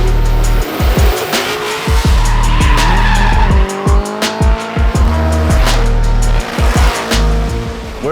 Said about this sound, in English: The guys today are shutting down a section of Canyon Road and they're gonna send a bunch of drift cars up.